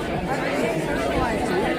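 Dense crowd chatter fills the air at an outdoor Vietnam memorial dedication in Campbell County, Kentucky, a steady loud murmur of many overlapping voices with no single speaker standing out.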